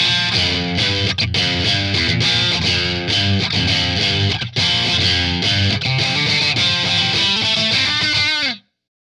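A Fender Strat through a Boss DS-2 Turbo Distortion pedal plays a driven, gritty rhythmic riff of choppy chords, close and loud, ending abruptly with no talking.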